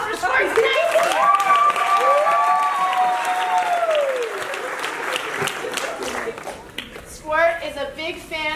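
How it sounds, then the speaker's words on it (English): Studio audience applauds and cheers as someone from Sarratt Cinema is called up for a gift on a comedy show, steady loud clapping with voices and whoops over it, fading toward the end as talk resumes. "Somebody a round of applause for Sarratt Cinema."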